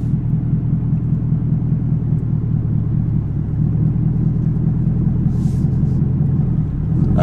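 A manual Chevrolet Camaro ZL1 idles with a steady, close rumble as the clutch is eased out and the car creeps away, the engine tone holding low and even throughout with no revving.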